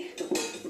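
A metal wok set down on a gas stove, a quick pair of light clanks and rattles close by, lasting under a second.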